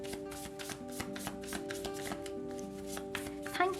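Tarot cards being shuffled for a reading, a soft, steady riffling and tapping close by over a constant electronic hum, with a brighter rustle near the end.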